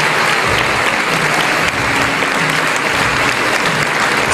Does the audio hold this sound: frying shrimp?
no